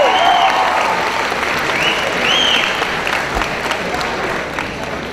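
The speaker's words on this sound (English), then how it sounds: "On les applaudit encore très fort" A crowd claps loudly and continuously for performers costumed as the Mario princesses, a thick wash of applause with a few whistles rising above it, fading gently toward the close.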